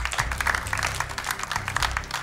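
An audience applauds a singer on a vocal competition show, with steady, moderately loud clapping that holds evenly from start to finish.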